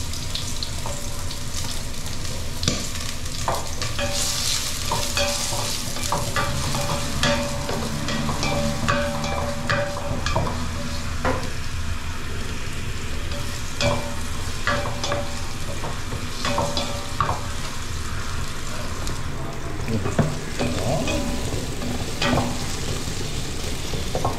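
Onion and garlic sauté in a pan, a continuous close sizzle broken by frequent clicks and scrapes from stirring throughout.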